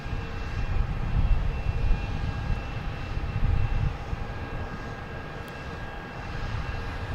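A big Delta airliner flies over Boston Logan Airport, its jet engines giving a steady, loud low roar that swells and then slowly eases.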